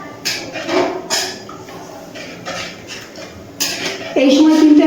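A spoon scrapes and clinks against a pan of pabda fish curry set over a high gas flame, with irregular nearby stirring strokes and a steady hiss building near the end.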